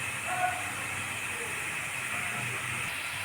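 Semolina snack frying in hot oil, a steady continuous sizzle and hiss held at an even level throughout, close and alone.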